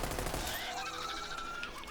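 Hellfire SMG from Borderlands 3 firing in rapid bursts at ratchet enemies, a dense, loud, continuous rattle of gunfire with no pauses, close and in the foreground.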